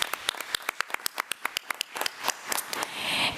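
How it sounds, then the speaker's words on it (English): Applause at a school board meeting: a run of crisp, evenly spaced nearby claps that thickens into fuller, overlapping clapping from several people toward the end. "let's give her a round of applause"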